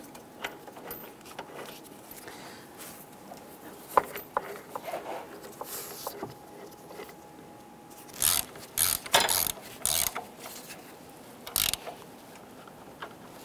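Engine mount bolts on a 2008-2013 Nissan Rogue being snugged down with a ratchet, quiet mechanical clicking followed by bursts of rapid ratcheting and a few metallic clinks at close range.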